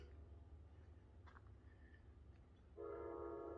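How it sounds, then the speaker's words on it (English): A faint train several miles away sounds a sustained horn near the end, over a low rumbling background with a few soft chirps. "That's a train a long ways away."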